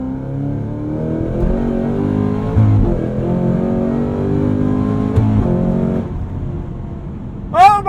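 Hennessey H1000-tuned Cadillac CT5 Blackwing accelerating hard at full throttle, a loud, close, steady engine roar rising in pitch through the gear, with a brief shift partway and a whine near the end.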